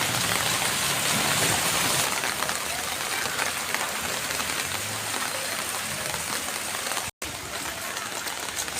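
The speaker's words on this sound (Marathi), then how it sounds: "आपण पाहू शकता जोरदार अशी पावसाची सर आलेली आहे" Heavy rain pours down steadily in Nalasopara during a festival, a dense, even hiss with no breaks, continuing without any voices.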